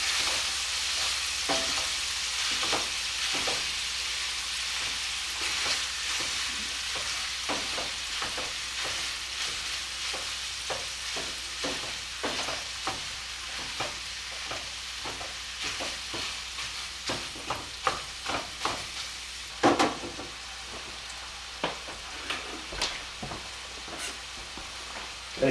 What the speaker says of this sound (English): while my hamburger meat is browning